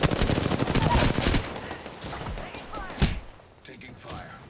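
Gunfire in the battle royale game Apex Legends, a loud dense burst of automatic shots at first, then scattered fainter shots and game sounds as it thins out, with some voice chatter.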